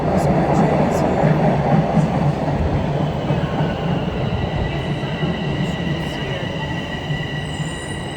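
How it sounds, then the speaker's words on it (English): A train rolls into a station on a snowy day in Canada, a loud, steady rumble of wheels and cars with faint squealing on the rails, close by throughout. "So my train is here."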